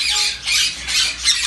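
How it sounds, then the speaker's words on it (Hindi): Alexandrine parrot at a bird market in Jeddah, giving loud, harsh repeated squawks close by, with no talk. "पहाड़ी तोता"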